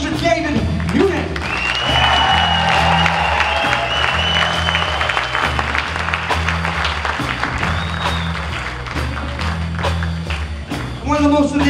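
Concert crowd applause and whoops for the drummer rise over live band music, with clapping and cheering carried under sustained instruments and a voice speaking through part of it.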